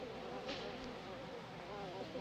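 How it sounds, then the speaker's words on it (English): Swarm of bees out of their hives at night, a dense continuous buzzing drone with brief louder passes, heard alongside tense voices. "Yeah, the bees are out of their hives."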